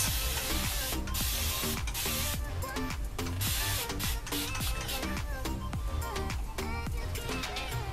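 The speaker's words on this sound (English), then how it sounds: "I'm just gonna start spraying it and see how fast my hair reverts." Spray bottle of plain water misting onto hair, with many quick, close hissing bursts in a rapid, irregular rhythm and no pause between them.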